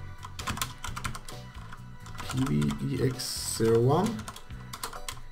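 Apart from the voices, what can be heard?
typing on a computer keyboard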